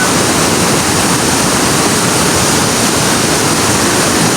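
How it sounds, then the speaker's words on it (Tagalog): Pulang Bato Falls in Valencia, Dumaguete, Negros pours in a constant loud, close roar of falling water, a dense unbroken rush with no other sounds. "Ganda ng falls oh. Pulang Bato Falls."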